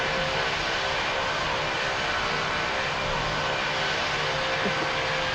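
A light aircraft engine drones steadily in flight, a constant loud hum with a faint whine, unbroken and without speech for the whole stretch.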